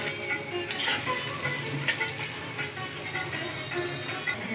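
Onion frying in hot oil in a pan, a steady close crackling sizzle that runs throughout with small bursts of spatter and occasional stirring clatter.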